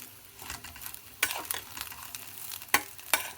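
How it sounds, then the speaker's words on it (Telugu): Rice being fried in ghee until light brown for a muthanjan sweet dish, a soft steady sizzle punctuated by several sharp spoon scrapes and stirring clinks against the pan, close and alone. "కొద్దిగా లైట్ బ్రౌన్ వచ్చినప్పుడు వరకు వేయించుకోవాలి ఇది బియ్యాన్ని"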